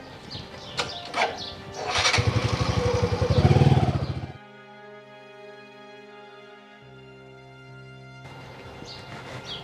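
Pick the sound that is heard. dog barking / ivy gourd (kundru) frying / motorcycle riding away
motorcycle riding away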